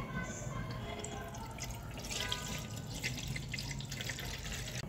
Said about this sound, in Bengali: একটি পাত্রে পরিমাণ মতো পানি নিয়ে নিচ্ছি।